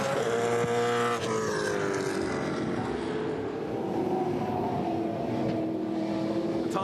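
A Holden V8 touring car races through a corner at Winton, its engine note a steady, loud drone with a gentle pitch shift as it passes, carried under constant track noise.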